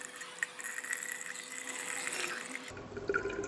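Water bubbling gently as it boils at low temperature, around 52 to 55 degrees Celsius, in a glass bulb held in the hand; a soft, steady watery hiss with faint bubble pops, close and quiet.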